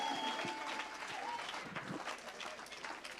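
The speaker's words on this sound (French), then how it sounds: "Let's clap for the Lord." A church congregation claps together in a sustained round of steady, dense applause, with voices faintly mixed in under the clapping.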